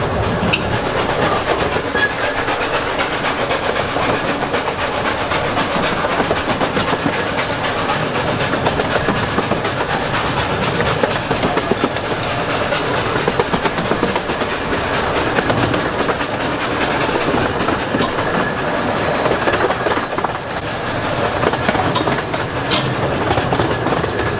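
A train rumbles past close by, its wheels clattering in a steady, continuous clickety-clack that stays loud throughout.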